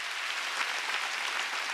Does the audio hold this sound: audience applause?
yes